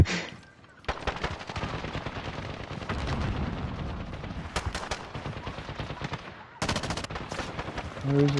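Video game gunfire in Call of Duty: Modern Warfare, dense rapid automatic bursts crackling almost continuously for several seconds, with a brief pause and then more heavy shots.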